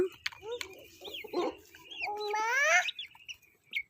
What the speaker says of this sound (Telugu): కోడి పాప వస్తుంది, ఇగో కోడి తింటుంది.